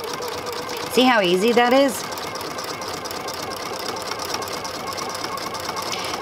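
Sewing machine fitted with a decorative trim (ribbon) foot stitching ribbon onto fabric, giving a steady mechanical hum with rhythmic stitching. A voice speaks briefly over it near the start.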